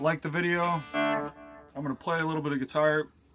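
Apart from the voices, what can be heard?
No everyday noises stand out.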